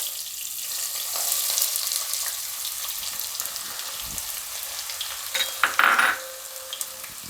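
Onions dropped into hot oil for a Gujarati moong dal and spinach dish sizzle steadily and close, with a brief louder crackle and stir near the end, no talking.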